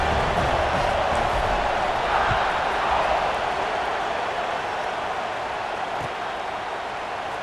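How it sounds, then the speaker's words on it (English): Stadium crowd in EA Sports College Football 26 buzzing after a score, a dense, steady roar of many voices that stays fairly loud and even throughout. "this crowd is buzzing after that last score"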